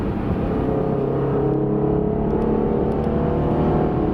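A 2020 Range Rover Sport SVR engine pulls hard in sport mode, a steady loud drone rising through the revs from inside the car, with no talking.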